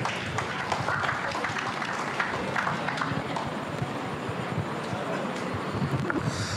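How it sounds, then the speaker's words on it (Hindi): An audience at a Hindi festival award ceremony at a college claps steadily in a dense, sustained wash of applause that stays at an even level throughout. "मैं बहुत ही दमदार तरीके से उनको आवाज देना चाहूंगा आपकी जोरदार तालियों के साथ, जनाब जावेद अख्तर साहब।"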